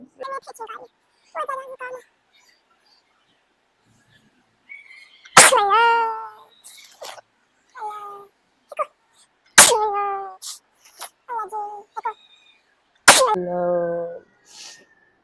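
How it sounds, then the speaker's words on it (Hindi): A woman at home sneezes three times, several seconds apart, each a loud explosive burst followed by a voiced trailing sound, with softer vocal noises and breaths in between. "छींके मार के मेरी पसलियों में दर्द होने लग पड़ी है"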